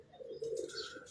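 A lilac-colored pigeon gives a soft, rolling coo, a short low murmur heard close, with faint chirps from other birds in the background.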